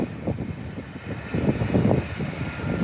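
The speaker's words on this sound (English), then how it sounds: "Here comes JetBlue, heading down the runway" A JetBlue airliner rolls down the runway for takeoff, its engines a loud, steady roar that swells toward the end, with no voices.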